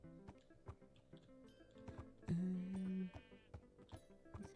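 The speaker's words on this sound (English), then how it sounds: "Lots of sheep here." A sheep in the Minecraft video game gives one clear, loud bleat lasting under a second, with faint clicking game sounds around it.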